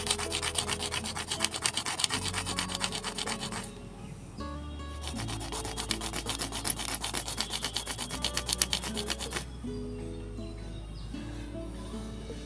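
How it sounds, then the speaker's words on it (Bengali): Lotus seeds are rubbed against a rough surface to wear away their hard coat, making steady, rapid scraping strokes in two long bursts split by a short pause, with a low tonal hum underneath. "তো তোমরা এরকম করে সব বীজ ঘষে নেবে।"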